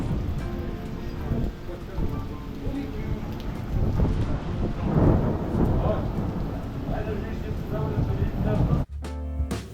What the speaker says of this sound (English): It's raining heavily here in Astana.